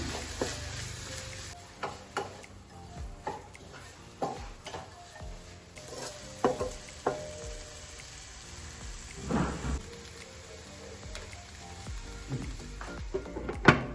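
Okra (ladies finger) thoran being stirred in a pan with a little vinegar: a steady rain-like sizzle with scattered scrapes and clinks of the spatula throughout, fairly quiet and close, with no talking.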